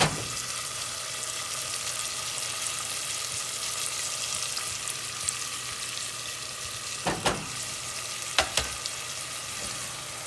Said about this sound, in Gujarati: હવે આપણે આપણો સામો જે ધોઈને રાખ્યો હતો એ નાખી દઈશું.